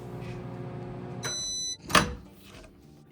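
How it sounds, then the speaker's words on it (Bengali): A microwave oven set to heat cashew nuts for 30 seconds gives a short electronic beep, then a firm door clunk, both close and clear over a low background hum. "আমি এখন 30 সেকেন্ডস মাইক্রো করে নিচ্ছি"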